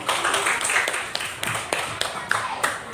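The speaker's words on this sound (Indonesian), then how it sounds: "Tepuk tangan dulu buat kelompok 3" Applause from a primary school classroom of fifth graders clapping for a student group that just presented, a dense patter of small hands with scattered sharper claps over about three seconds.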